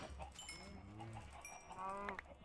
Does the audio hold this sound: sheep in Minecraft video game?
yes